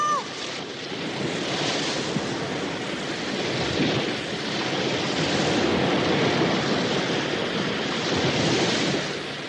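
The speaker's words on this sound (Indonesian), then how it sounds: "ganasnya ombak laut selatan yang menggulung gadis aneh itu" Fierce south sea waves crash and roll continuously in a steady, dense wash of surf with wind, loud and close throughout, no voices over it.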